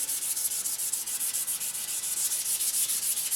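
Close and steady, 400-grit wet-dry sandpaper rubs over a Yamaha motorcycle exhaust pipe that has road grime and a black factory coating. The strokes are rapid and even, with a scratchy back-and-forth rhythm and no voices.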